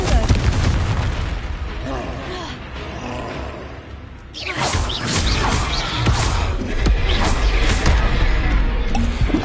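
In the Hogwarts Legacy video game, a Confringo blasting spell fires, and a booming explosion bursts out amid dense, loud combat effects. The blast rumbles on with crackling debris over a sustained noisy battle soundscape.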